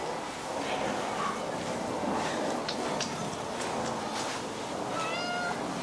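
A blue point Siamese cat gives a few short, faint meows over a steady indoor background hiss, fairly close but quiet.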